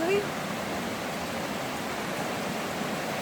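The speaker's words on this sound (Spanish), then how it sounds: "Hay que cruzar el río." A river beside the Puyehue volcano, flowing near the trail as a constant broadband rush, with a brief voice at the very start.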